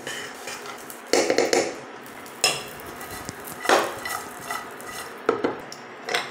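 Cashews, raisins and almonds fried in a pan for jorda shemai, a Bengali sweet vermicelli dessert, with repeated metal clinks and scrapes of stirring against the pan over a faint background sizzle.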